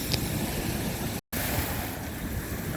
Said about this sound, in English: these waves are pretty crazy over here